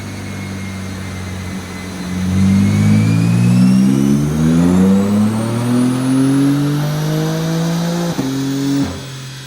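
A tuned car's engine revs hard on a dynamometer run on E40 ethanol fuel, climbing steadily in pitch for several seconds, loud and close, then cutting off abruptly near the end with no talking.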